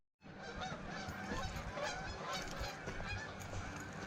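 A large flock of geese, some two hundred birds overhead on a trail, honks in a dense, continuous chorus of overlapping calls at moderate distance.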